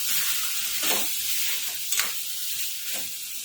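Eggplant cooking in a pan is stirred after turmeric goes in, a close, continuous sizzle broken by a few scraping strokes of the spoon about once a second, with no voices.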